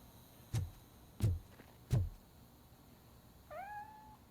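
A cat in the video game RoboCop: Rogue City gives one short, rising meow near the end, after three dull thuds spaced evenly apart against a quiet background hum.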